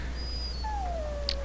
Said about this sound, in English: That blasted hound is more trouble than he's worth.